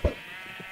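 A single short sheep bleat from the Minecraft video game pops out near the start, followed by a steady hum and faint soft noises.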